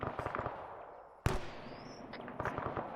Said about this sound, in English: These mortars are getting too close to pull you over here.